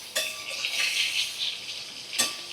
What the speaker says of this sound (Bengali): এক সাইডটা ভাজা হয়ে গেলে আমি উল্টে আর এক সাইডটা ভালো করে ভাজা করে নেব